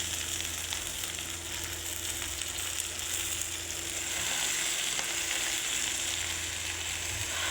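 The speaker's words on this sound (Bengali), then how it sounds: "লাল শাক ভাজি করতেছি" Red amaranth greens frying with onions in a small wok, a dense continuous sizzle and crackle close to the pan, steady for several seconds and slightly louder toward the end, with no talk.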